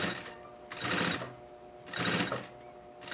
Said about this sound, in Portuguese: Costura no mesmo rumo da outra que você já fez.